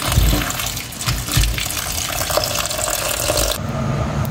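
Water running from a tap and splashing into a container of sliced bitter gourd and salt, a steady close pour that continues through the whole stretch and changes tone near the end.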